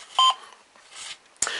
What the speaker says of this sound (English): If I do that, you get a beep to tell you that the car's triggered the sensor.